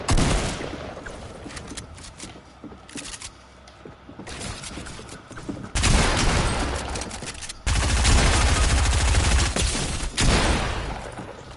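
Heavy shotgun fire in the Destiny video game comes as loud bursts of blasts in clusters, with louder sustained volleys toward the end of the clip.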